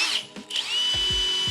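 A power drill driving screws into drywall whirs at high pitch in short bursts, with a brief stop and quick ratcheting clicks at the end, close and clear.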